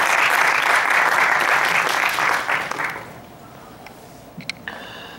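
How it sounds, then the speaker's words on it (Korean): An audience at an academic presentation gives a loud, full round of applause to welcome a speaker, fading out after about three seconds into quiet room noise with a few faint clicks. "큰 박수로 환영해 주시기 바랍니다"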